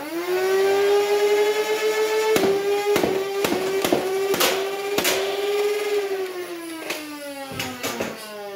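Nerf Ultra AMP blaster firing Ultra darts at a target, a steady motor whine under a quick series of sharp shots, about a dozen in close succession, loud and near.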